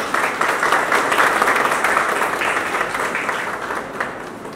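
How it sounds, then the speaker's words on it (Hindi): A crowd claps and applauds at a film muhurat ceremony on a shoot, with dense, loud clapping from the start that fades slightly over several seconds. "तालियां।"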